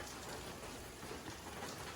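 Heavy typhoon rain pours steadily in a dense, even hiss with no breaks, a continuous wash of falling water heard without talk.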